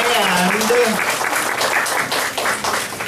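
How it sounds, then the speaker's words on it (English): Audience applause at an open mic night fills the room, a dense steady wash of clapping throughout, with a voice talking briefly over it near the start. "Please thank them both with your applause"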